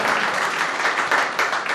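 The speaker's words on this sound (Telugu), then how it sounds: "చప్పట్లు కూడా సంతోషించను అందరూ." Applause from a church congregation during a sermon fills the space, a steady dense patter of many hands clapping throughout without a break.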